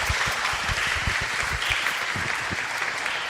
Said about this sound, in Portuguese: Uma salva de palmas para nossos formados.